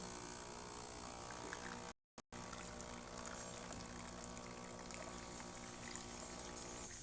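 Hot water pours steadily from the wand of a Breville Barista Empress espresso machine during a service check, a constant close hiss with a brief cut-out early on.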